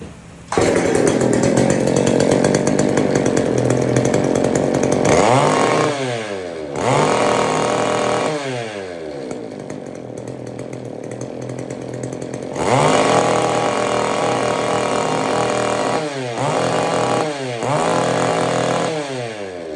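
An old Homelite or McCulloch chainsaw engine is pulled over and started without choke, roaring loudly up close, dropping back to idle and revving up repeatedly across the stretch.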